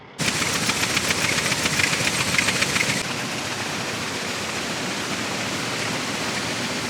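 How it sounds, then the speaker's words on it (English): A grain auger runs steadily, moving corn into a farm bin: a loud, continuous mechanical roar with dense rattling grain hiss that drops to a lower, steadier drone about three seconds in, with no voices. "I'll just try running one auger this time."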